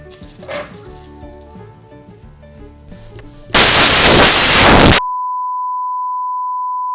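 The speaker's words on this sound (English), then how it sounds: "when I detonated the confetti cannon, my camera stopped working" A confetti cannon detonates in a sharp, loud, noisy burst lasting over a second, after faint background music, and is followed by a steady electronic beep tone.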